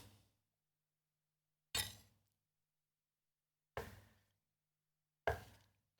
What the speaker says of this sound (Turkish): Hemen domateslerimi dörde bölüyorum.